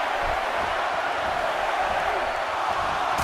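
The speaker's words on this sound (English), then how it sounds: "This crowd's counting down for number 17." A dense, steady stadium crowd roars continuously throughout a WWE 2K18 Royal Rumble match as it counts down toward the number 17 entrant, a broad unbroken wash of massed voices with no single voice standing out.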